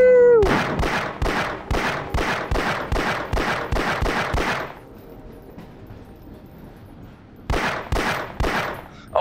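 Rapid, loud gunfire from a weapon in the Half-Life VR game, about a dozen evenly spaced close shots in a burst, a pause, then a few more shots.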